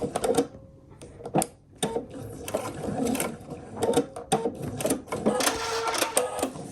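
A sewing machine backstitches to lock a quilt binding stitch, giving short uneven bursts of rapid mechanical clatter broken by brief pauses and shifts in speed, close and fairly loud.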